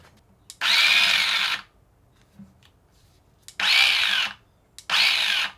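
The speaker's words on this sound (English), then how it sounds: "This, I think this is just a drill with an auger." A Roto Shovel, a 12-volt electric drill-driven auger shovel, whirs in three loud bursts of about a second each, separated by short quiet gaps, close to the listener.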